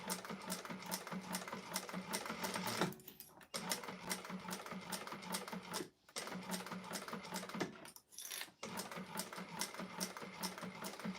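A sewing machine stitches the exterior of a clutch wallet, running in a fast, rapid needle patter close by, with brief pauses as the operator stops and restarts.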